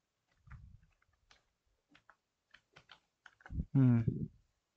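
Sparse, faint clicks from a computer keyboard as a PHP file name is typed, spaced irregularly in a quiet room, with a brief voice near the end.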